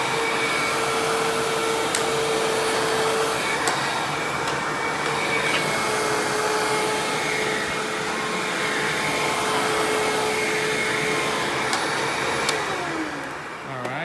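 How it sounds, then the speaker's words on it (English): An upright vacuum cleaner runs steadily with a loud, constant motor whine and airy roar, a high tonal hum sitting over broadband rushing noise throughout. "That was the sound of the Maytag wind tunnel."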